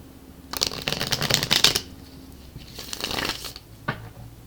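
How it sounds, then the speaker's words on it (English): Tarot cards are shuffled close by in two quick riffling bursts, with a pause between them and a soft tap at the end. "One more shuffle here for you"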